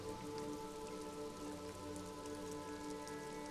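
Steady rain falling in the video game Disco Elysium, a continuous dense patter over a constant low hum of ambience, with no voices.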